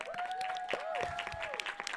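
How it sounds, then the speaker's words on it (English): An audience at a design thesis show gives a round of applause: steady, fairly quiet clapping from a crowd, with a sustained tonal sound running over it. "let's just give you a round of applause, too"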